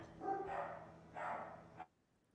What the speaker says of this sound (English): Fanon, your dogs are going crazy.